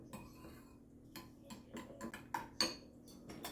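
A spoon stirs yogurt, sauce and lemon juice together in a bowl, giving faint, sparse clinks and light scraping ticks in a quiet kitchen.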